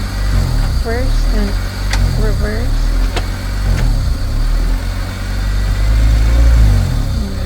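A manual stick-shift car's engine runs steadily at idle with a low, constant rumble, while a person talks over it nearby.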